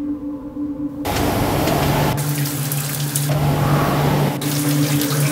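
Steady, loud rush of shower water running continuously, with a few abrupt shifts in its tone as the spray changes.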